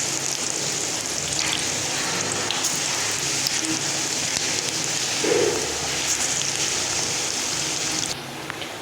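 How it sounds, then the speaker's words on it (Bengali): Lentil fritters (dal bora) deep-fry in hot oil with a dense, even crackling hiss that sounds like steady rain and carries on throughout. "এই যে দেখো লাল লাল করে ভেজে নিয়েছি"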